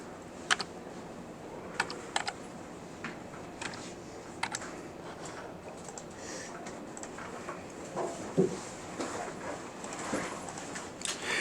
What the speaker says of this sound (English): I'm going to type my equation in.